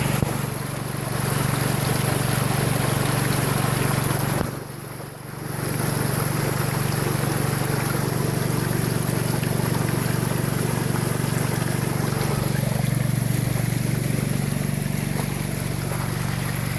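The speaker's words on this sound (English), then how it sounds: "There's a lot of water going through that sluice." Water pouring through a gold dredge sluice, a dense, continuous rushing wash over a droning pump engine, with a brief dip in loudness partway through and no speech.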